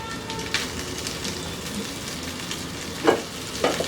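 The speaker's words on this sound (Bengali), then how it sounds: "আগে আলুটা দিয়ে এর সাথে একটু ভেজে নিই" Diced boiled potatoes fry in a pan with a continuous soft sizzle and a couple of short stirring scrapes near the end.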